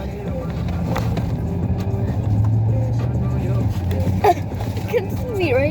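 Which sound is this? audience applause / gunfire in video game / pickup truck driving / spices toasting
pickup truck driving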